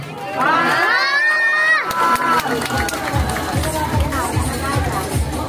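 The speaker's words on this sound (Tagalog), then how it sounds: "Bati po natin sabay-sabay palakpakan at hiyawan" A loud crowd at a 2022 Miss Gay pageant in Angeles City, Pampanga, cheers and shouts with excited, high-pitched screams, followed by sustained rowdy applause and hubbub.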